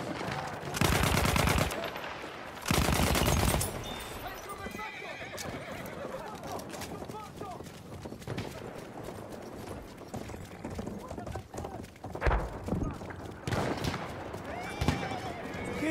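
Horse whinnying loudly and hooves galloping on a Battlefield 1 World War I battlefield, mixed with bursts of machine-gun fire and shouted voices.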